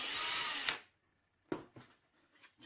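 A power drill fitted with a 3/32 inch bit bores through wood, a loud whirring burst that cuts off, then a couple of short, quieter drill bursts and knocks.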